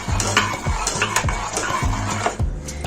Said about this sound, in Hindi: उसको भी अच्छे से हमने इसमें मिक्स कर लेना है